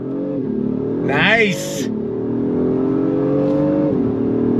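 A 2025 Acura MDX Type S SUV pulls hard on throttle, its steady engine drone rising and holding close through the run, with a brief exclamation from a person inside.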